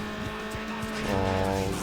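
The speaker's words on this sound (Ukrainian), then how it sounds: "Дуже резко затормозив." A car brakes hard in Need for Speed: Underground, its engine whining under a sustained tire squeal and skid that grows louder toward the end, with no speech over it.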